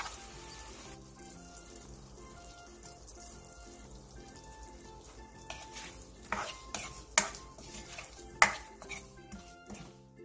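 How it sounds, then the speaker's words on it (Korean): Green Cheongyang chili peppers are lightly stir-fried for tofu gangjeong, a soft sizzle under stirring with clattering utensil scrapes and sharp metallic clinks growing toward the end. "청양고추를 넣고 1분 정도 가볍게 볶아주세요"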